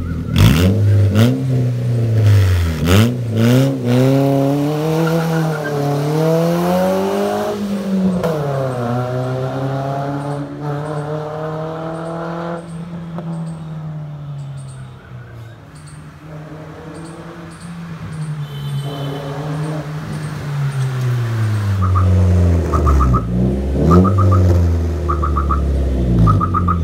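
Hyundai i20 with a loud aftermarket exhaust, 2.0 pipe and HKS rainbow tip, revving repeatedly while driving past, engine pitch rising and falling strongly, loud up close with some faint background chirps.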